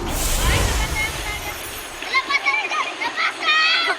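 Students wading across a river in Midsalip, Zamboanga del Sur, splashing water, with children's voices and chatter over the sloshing and a burst of splashing early on.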